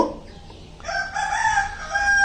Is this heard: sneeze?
no